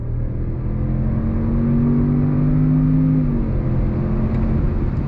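A 2023 Range Rover Autobiography LWB 530PS SUV on 23-inch wheels accelerates hard out of a right-hand bend, its engine note rising in pitch, loud and close inside, then easing off near the end.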